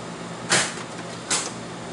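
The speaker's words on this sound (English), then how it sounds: "Close the door." The cabinet door of an IGT slot machine under repair is shut twice, two soft, brief thuds with a click, close by over a steady electrical hum.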